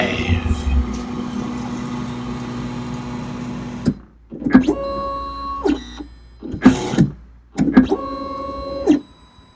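A 3D printer heats its extruder for assisted leveling, starting with a steady fan-like hum that cuts out, followed by several short whirring stepper-motor bursts separated by quiet gaps.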